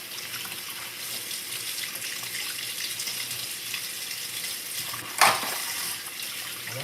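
Water runs steadily from a kitchen tap in a continuous close hiss, with a single brief clink partway through.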